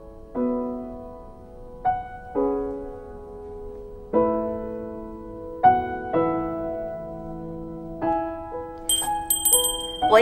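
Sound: bell ringing in a visual novel video game

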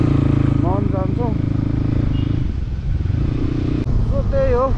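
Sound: motorcycle ridden on a road

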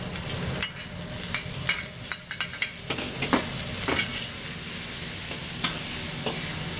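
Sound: ginger, garlic and onion frying in a pan

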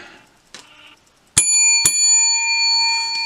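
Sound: bell being rung

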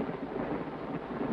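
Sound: rain and thunder outside an old house

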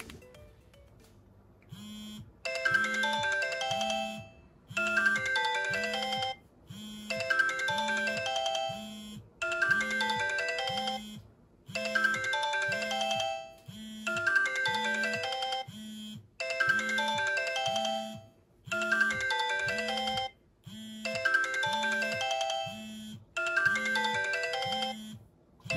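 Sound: Sony Ericsson T303 phone ringtone on incoming call

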